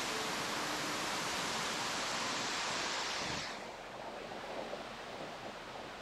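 Water streams and splashes steadily through dense greenery inside Singapore's Cloud Forest at Gardens by the Bay, a loud, close broadband rush that softens partway through.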